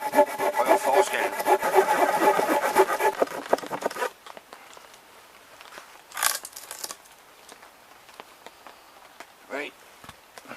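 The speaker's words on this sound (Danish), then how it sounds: "Så nu saver vi lige et par stykker op her." A hand saw cuts dry wood at a rainy campsite with rapid back-and-forth rasping strokes for several seconds, then stops, leaving scattered knocks and handling noises close by.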